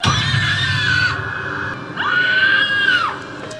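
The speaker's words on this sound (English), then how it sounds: "We need more screams." A loud recorded monster scream sound effect for Halloween: two long, shrill, wavering screeches, each about a second long and separated by a short pause, heard alone without speech.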